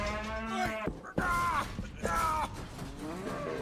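Animated bull bellows in loud, drawn-out harmonic calls, broken by a short pause and a clunk, from a dubbed children's film scene with a truck.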